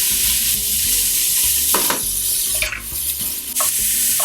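Chopped onion sautés in olive oil in a pan, giving a steady close sizzle and hiss with occasional stirring scrapes, no voices.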